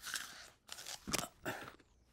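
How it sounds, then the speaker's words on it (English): Someone bites and chews a crunchy raw carrot up close, three or four sharp, dry crunches in an uneven rhythm with short pauses between them. "That looks like a particularly crunchy carrot"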